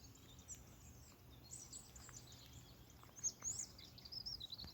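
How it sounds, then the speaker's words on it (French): A flock of birds calls on a hillside walk in the hills of Château Virant, with thin high chirps and tweets scattered over faint outdoor background noise, growing a little busier toward the end. "Un vol d'oiseaux ici."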